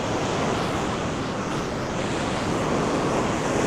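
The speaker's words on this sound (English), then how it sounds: "the waves are quite strong today" Strong ocean surf breaks on a Vietnamese beach, a loud continuous roar of crashing waves with gusty wind buffeting the microphone, no voices.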